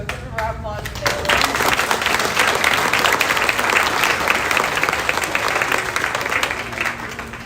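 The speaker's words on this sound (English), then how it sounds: "So give a round of applause to Bailey" Applause fills a banquet hall as the audience claps steadily for several seconds, dense and fairly loud, after a short spoken moment at the start, then slowly thins toward the end.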